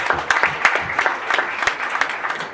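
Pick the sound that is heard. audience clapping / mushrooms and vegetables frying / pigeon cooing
audience clapping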